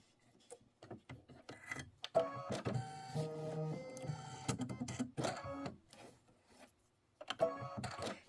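An embroidery machine sews a placement stitch on linen, giving a quiet, close whirring and chattering rhythm in short runs that stop and start, with brief pauses and small clicks between bursts.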